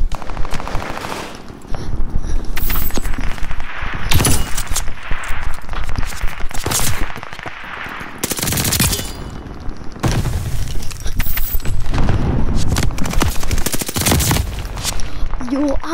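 Laser-like gun firing in Call of Duty: Vanguard, loud bursts of rapid automatic fire broken by short pauses, with crashes and breaking glass mixed in.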